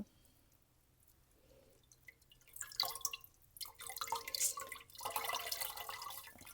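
Plant-dyed fabric is rinsed in water, starting with near silence and a few drips, then rising into splashing, dripping and sloshing that grows louder and continues close up, with no talking.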